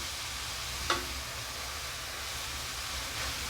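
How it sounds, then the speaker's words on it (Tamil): Grated carrots sauté in ghee for carrot halwa, giving a soft, continuous frying hiss with one brief clink near the start, steady and fairly quiet throughout. "நெய்யிலே அப்படியே வதக்கி விட்ருக்கேன்"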